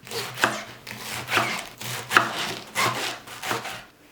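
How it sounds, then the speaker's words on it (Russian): A knife chops through fresh herbs on a board in a steady series of crisp, close strikes, about one per second, with no talking. "И нарезаем всю зелень мелко."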